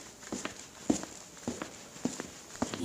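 Approaching footsteps in a Hindi animated children's story set in a guava orchard: a steady series of about five soft, evenly spaced steps, heard alone without talk.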